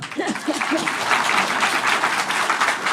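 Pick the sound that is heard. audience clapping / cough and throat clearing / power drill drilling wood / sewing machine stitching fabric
audience clapping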